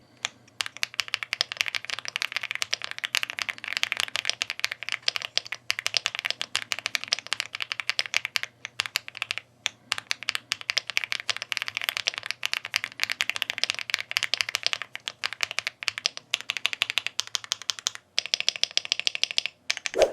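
Close, rapid typing on a mechanical keyboard with a switch pad, producing dense irregular clacks and rattling key strikes that continue for about twenty seconds with only brief pauses.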